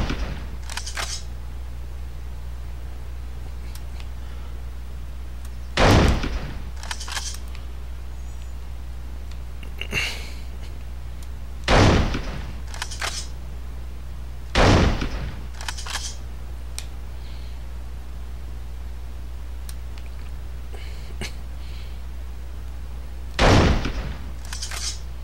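Gunfire at snipers in the PS2 video game 24: The Game: a handful of sharp, loud shots spaced several seconds apart, with a few fainter cracks between them over a low background hum and no talking.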